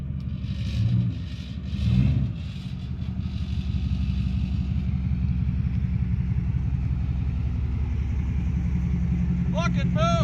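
Project car engine idling with a low, steady rumble after repairs to an oil leak, with a brief rise early on and people talking over it.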